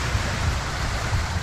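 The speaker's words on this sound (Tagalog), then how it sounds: "Malakas yung alon mga kabayan," Dense, roaring wash of strong sea waves crashing at Tinambac, Camarines Sur, loud and continuous with no pauses and no voices.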